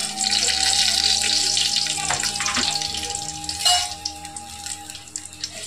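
Whole spices, cardamom and cinnamon among them, sizzling in hot oil in a pan for chicken biryani, a steady bright hiss broken by a few clatters and stirring knocks near the end.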